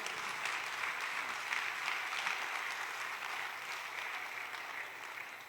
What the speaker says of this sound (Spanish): Dele fuerte el aplauso.